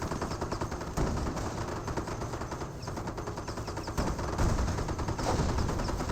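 Gunfire in a Company of Heroes 1 battle between British and Wehrmacht forces, with a Staghound armoured car in action: dense, continuous bursts of shots and rattling fire, loud and close throughout with no speech.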